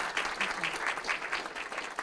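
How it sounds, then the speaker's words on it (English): A crowd claps steadily for about two seconds, a dense, even patter of hands with no voices standing out. "Can we please give you all one more round of applause?"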